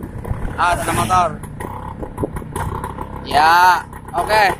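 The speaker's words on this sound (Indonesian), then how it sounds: "Ada motor." Motorbikes pass close by on a road during a Vespa scooter test ride, with engines rising and fading in two loud bursts, the second longer, while people talk nearby.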